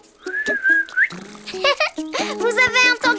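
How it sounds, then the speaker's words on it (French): A child whistling softly through rounded lips, making wavering breathy tones in short attempts, mixed with cartoon voices and a brief musical phrase. "Je sais presque siffler."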